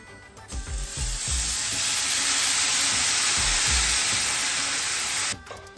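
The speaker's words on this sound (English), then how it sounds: "Now if you see, that's actually boiling." Loud, steady sizzling and frying hiss in a pan as liquid is added to dumplings and boils, with a few low bubbling pops, starting abruptly and cutting off near the end.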